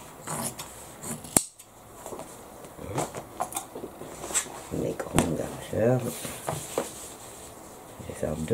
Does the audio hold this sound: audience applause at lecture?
no